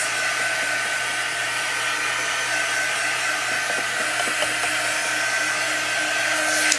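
Hair dryer blowing steadily at close range over a stencil for a chalk-paste watercolor craft technique, a continuous loud whir with no talking.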